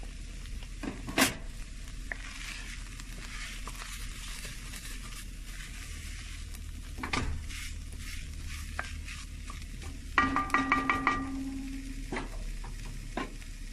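Vegetables for an off-road chilli sizzle softly in a pan while a spoon stirs and scrapes them in occasional bursts, with a few clinks against the pan, close and fairly quiet.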